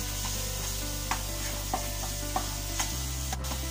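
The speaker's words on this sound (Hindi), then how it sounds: "तो अच्छे से हम मिक्स करेंगे" A spoon stirs spice masala with tomatoes in a pan for an okra dish, with a faint steady sizzle and soft, evenly spaced scraping taps over a low hum, no talking.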